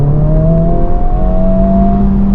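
A 2024 Honda Civic Type R with manual gearbox accelerates on the road, its engine note climbing in a steady drone heard from inside the cabin, with no talk.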